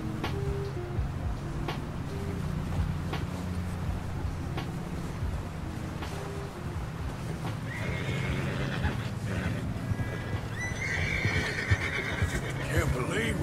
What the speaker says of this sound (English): I want to slow down horse.